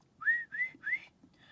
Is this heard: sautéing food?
no